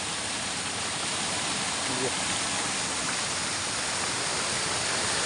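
A small village river swollen to the brim, rushing water roaring loudly and evenly throughout, with a brief faint voice briefly under the flow.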